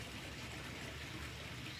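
Water flowing steadily out of the top of a fully submerged pool cleaner hose at the water level, a constant faint rushing gurgle with no talking.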